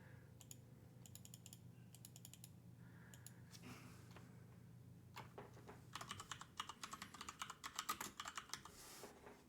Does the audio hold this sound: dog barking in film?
no